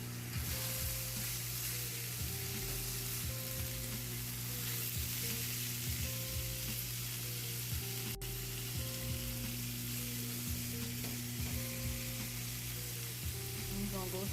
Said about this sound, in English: We're going to add our walnut mushroom ground in here.